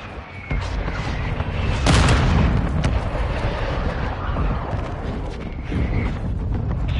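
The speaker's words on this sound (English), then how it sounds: "Friendly mortar strike inbound." Friendly mortar strike in the video game Modern Warfare II, a dense, loud stretch of booming explosions and rumbling blasts that swells near the start and keeps thundering throughout, with no talking.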